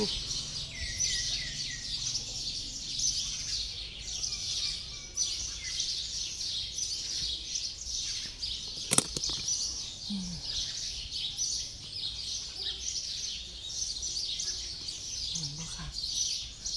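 A constant chorus of high, chattering bird chirps at a Thai temple grounds continues throughout, with a sharp click partway and occasional faint low sounds.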